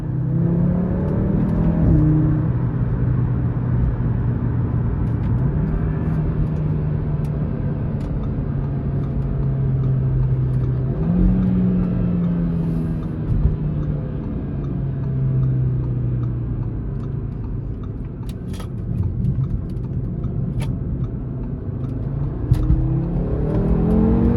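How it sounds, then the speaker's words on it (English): A 2018 Audi RS3 engine and standard non-sport exhaust rise repeatedly in pitch as it accelerates through the gears, a steady loud drone heard from inside, with faint ticks. "This actually doesn't have the sport exhaust, and it still sounds pretty good."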